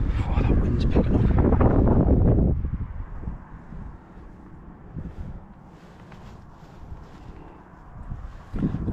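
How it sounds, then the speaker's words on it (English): Gusty November wind at a heritage railway, roaring hard against the microphone for the first couple of seconds, then settling into a steadier, lower rush with a fresh gust near the end. "Oh, that wind's picking up."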